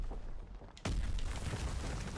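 A grenade detonates in Call of Duty: World at War, a sudden heavy boom that cuts in after quiet game ambience and leaves a rumbling tail of debris and low noise.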